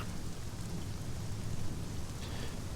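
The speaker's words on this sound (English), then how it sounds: "A biting wind brings hail and snow." Biting wind driving hail and snow in the video game Sunless Skies, a steady, dense roar of rushing noise with pattering grains, loud and continuous without a break.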